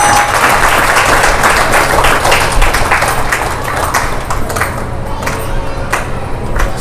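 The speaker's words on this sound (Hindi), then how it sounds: "जोरदार ताली बजनी चाहिए" Loud, sustained applause from an audience at a Kabir bhajan satsang, dense steady clapping filling the whole stretch before tapering slightly toward the end.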